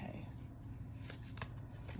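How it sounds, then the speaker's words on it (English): Tarot cards are shuffled by hand up close, giving a soft, quick riffling and flicking of cards over a faint low background hum. "One more shuffle aside."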